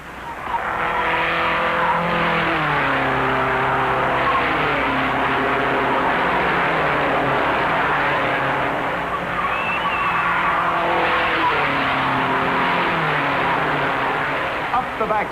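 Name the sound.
race cars at the 1956 Indianapolis 500 race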